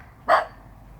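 A single sharp dog bark rings out close by, short and loud against a faint steady background, with nothing else following it.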